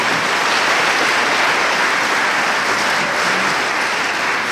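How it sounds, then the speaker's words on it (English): An audience applauding a sixth grade band at a spring school concert, a dense, loud, unbroken roar of clapping from a large crowd that holds steady from start to finish. "Give them a round of applause."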